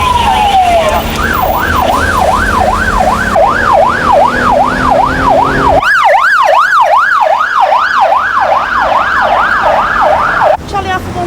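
An ambulance siren wails loudly and continuously in repeated rising and falling sweeps, responding to a woman collapsed on High Street, with brief radio talk and a sharper, faster tone near the end.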